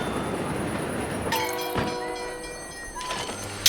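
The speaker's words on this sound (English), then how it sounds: "Train arrived at the station." In the steampunk city-builder SteamWorld Build, a train pulls into a station and sounds a loud, sustained whistle over a rumbling rail bed, ending with a soft mechanical thunk.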